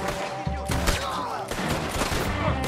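Rapid bursts of Mauser pistol gunfire in a video game fight, several sharp shots in quick succession over a busy background of game sound and music.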